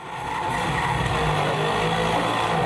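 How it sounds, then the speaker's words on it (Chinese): Racing video game car audio: a sustained, loud tire skid with engine roar, rising in at the start and holding steady throughout. "假设是赛车，它就增强它的轮胎摩擦声"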